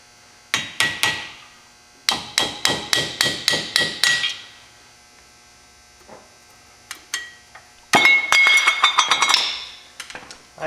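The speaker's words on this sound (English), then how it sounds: "just using a screwdriver and a hammer, working my way around it" Rapid bursts of metallic hammer taps on a screwdriver against a metal cap during a 2002 Chevy dually front wheel bearing replacement, ringing clinks in quick series of five or six strikes, separated by short pauses.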